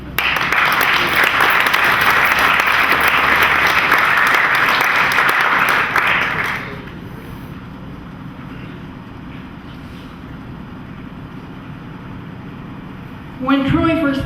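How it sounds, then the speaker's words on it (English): Loud, dense applause from a graduation audience fills the first six seconds, then cuts off abruptly to a quiet room, with a brief burst of noise near the end. "We'll clap for her as she comes up to the microphone."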